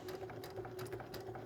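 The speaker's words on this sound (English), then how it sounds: "I'm just going to sew from corner to corner, stitching right beside that line that we drew." Steady close whir of a sewing machine running continuously as it stitches corner to corner on a quilt block piece beside a drawn line, even and moderately quiet throughout.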